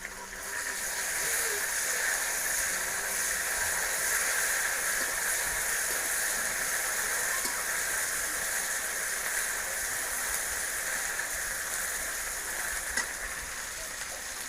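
Ground ginger, garlic and cumin paste goes into hot oil with fried onions and bay leaf for a koi fish and taro curry, giving a steady, fairly loud sizzle that runs on evenly with hardly any change.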